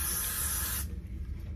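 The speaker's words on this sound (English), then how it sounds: "I'll spray some spray right on top" A single sustained aerosol spray hisses close up onto a lace wig at the hairline for under a second, then cuts off abruptly to quiet.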